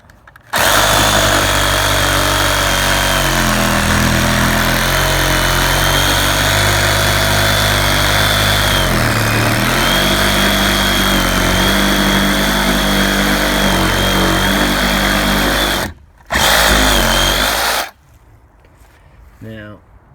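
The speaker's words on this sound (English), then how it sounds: "I'm going to have to take my saw and cut down that line right there." Power saw fitted with a new blade cutting along a marked line on a wooden fence panel, loud and close, whining steadily for about fifteen seconds, stopping briefly, then a short final burst before cutting out.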